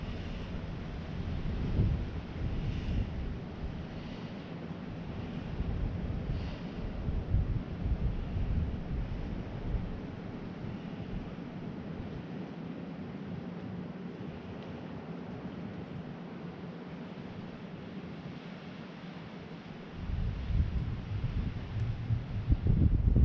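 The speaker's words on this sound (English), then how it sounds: "So the wind is picking up. Here comes another gust of wind." Strong blizzard wind roars steadily in western New York, with broad rushing gusts that swell and buffet the microphone, briefly easing before another loud gust surges in near the end.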